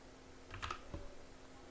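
Typing on a computer keyboard during a Skipfish command entry in a Kali Linux terminal; a short, near burst of a few clicks and one enter-like tap, alone without talk.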